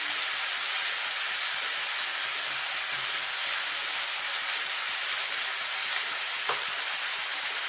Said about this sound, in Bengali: নতুন আলু একটু কষাবো এখানে